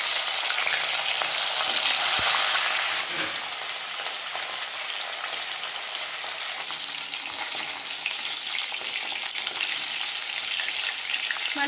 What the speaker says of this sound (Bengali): তেলটা গরম হয়ে গেছে, এবার মাছগুলো আমি দিয়ে দিচ্ছি।